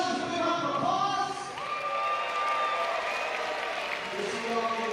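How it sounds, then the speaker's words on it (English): Wrestling show crowd applauding and cheering at an independent event, steady clapping mixed with shouts and whistles, while a voice speaks over the noise throughout. "Give yourselves a big round of applause"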